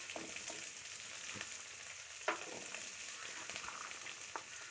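Shredded cabbage with carrot and onion sautéing in a home-kitchen pan, a steady low sizzle broken by a few sharp scrapes of stirring, close and moderately quiet with no talk.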